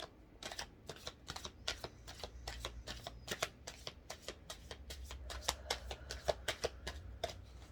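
Rapid riffling of tarot cards being shuffled up close, a steady run of crisp flicking bursts repeating throughout with no talking.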